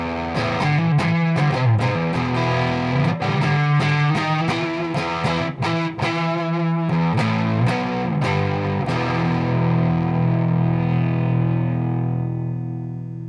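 Electric guitar played through a TC Electronic MojoMojo overdrive pedal set to its second voice mode with reduced bass, giving a loud, continuous overdriven riff of strummed chords and picked notes that rings out into a sustained, fading final chord.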